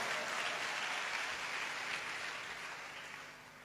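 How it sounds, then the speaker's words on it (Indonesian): Applause from a congregation at a church service, a steady wash of many hands clapping at once that slowly fades near the end, with no voices over it. "Tepuk tangannya meriah."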